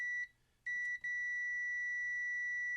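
A continuity tester probing ground on an arcade monitor under repair gives a steady, shrill electronic beep, briefly broken twice near the start and then held unbroken to the end.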